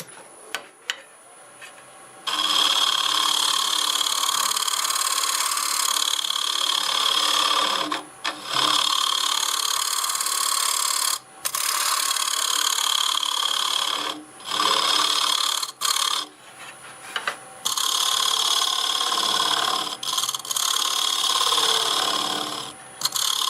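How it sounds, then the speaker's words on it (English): A wood lathe turns a teak tenon while a scraper works the spinning wood, giving a loud, steady whirring hum with a rubbing edge. It stops briefly several times and starts again, with no one speaking. "I think we can finish that off using the scraper here."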